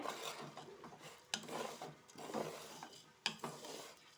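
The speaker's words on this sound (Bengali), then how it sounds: "এবার এটাকে ভালো করে নেড়ে চেড়ে নিতে হবে।" Rice being stirred with turmeric, pepper, cumin and coriander powder in a pot for khichuri, a quiet scraping and rasping of a spoon against the pan, in irregular strokes with a few sharper knocks.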